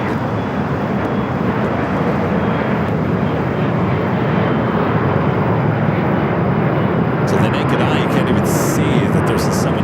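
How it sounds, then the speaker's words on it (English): An Alaska Airlines jet bound for Seattle takes off from the south side of LAX at night, its loud, steady engine roar filling the air, with a brief higher-pitched whine near the end. "Next takeoff here on the south side of Alaska Airlines Flight 532 heading to Seattle."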